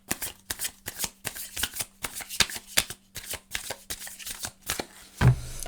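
Tarot cards shuffled by hand in a steady run of crisp riffling flicks, close and fairly quiet, with a low steady hum beneath and a heavier knock near the end.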